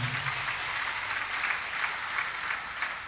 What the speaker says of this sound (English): Clap for Lord Jesus Christ.